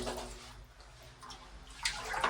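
Water rushes and splashes steadily while a household water tank holding about 20 to 25 litres is drained and washed out, with a brief louder surge near the end.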